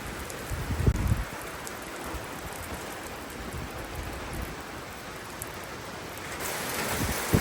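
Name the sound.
rain falling outdoors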